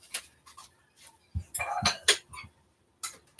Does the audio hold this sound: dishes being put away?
yes